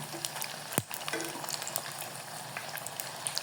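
Samosas deep-fry in hot oil with a constant bubbling crackle, one sharp clink of a utensil near the start, no voices.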